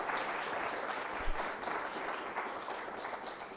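An audience at a graduate capstone symposium applauds steadily, a dense wash of clapping that holds at an even level for a few seconds from across the room.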